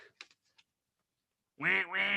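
A human voice imitates a duck's quack for a duck hand puppet, two loud nasal quacks back to back after a short silence; a few faint soft sounds come before it.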